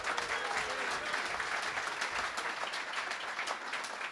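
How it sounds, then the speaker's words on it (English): An audience claps steadily in dense applause, moderately distant, with no break throughout. "A round of applause."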